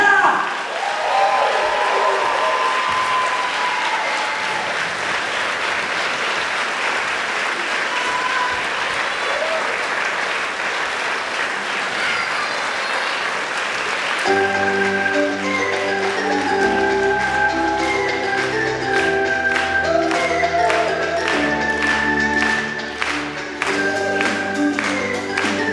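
Audience applause at a summer musical-theatre school evening in Holíč, steady dense clapping throughout, joined partway by loud accompanying music over the clapping.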